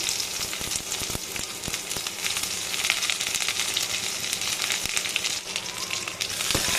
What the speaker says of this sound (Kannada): ಎಣ್ಣೆ ಕಾದ್ಮೇಲೆ ಸ್ವಲ್ಪ ಸಾಸಿವೆ ಹಾಕಿ, ಸಾಸಿವೆ ಚಿಟ್ಪಟ ಆದಮೇಲೆ ಕರಿಬೇವು, ನಂತರ ಈರುಳ್ಳಿ